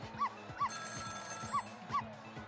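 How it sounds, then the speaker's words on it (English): A telephone rings in the video game Ghost Trick: Phantom Detective, with repeating electronic ring bursts in a steady pattern against soft game music. "It was the sound of a telephone ringing, coming from the apartment next door."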